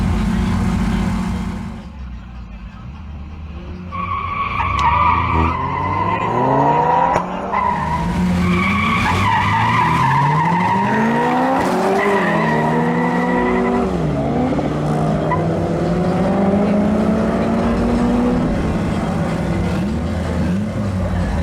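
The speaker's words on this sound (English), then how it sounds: "The first duel is between a Honda Civic and Javier Sarmiento's BMW M140i." A Honda Civic and a BMW M140i line up at a drag racing event, engines revving loudly and climbing through gears with squealing tires, the roar sustained and close for most of the clip.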